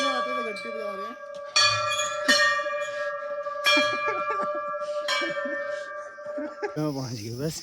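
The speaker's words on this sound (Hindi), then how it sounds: "तो दोनों हाथों से घंटी बजा रहे हैं" Bright metal temple bells rung by hand strike again and again with long ringing tones, close by, while people talk over them.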